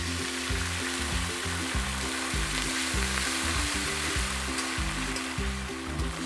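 Pabda fish frying in mustard and poppy seed paste with a splash of poppy seed paste water added, giving a loud, steady, close sizzle and bubbling that continues unbroken, with a low rhythmic hum underneath.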